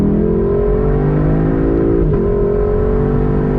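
A 2021 Lexus LC 500 with a 10-speed automatic pulls hard from a dead stop, its engine note rising steadily in pitch and staying loud and close throughout, with a brief dip partway as it shifts before climbing again.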